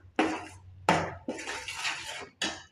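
A metal spoon scrapes and clinks against a pan while aval kesari is stirred with ghee, in four or five distinct close strokes with brief pauses between them.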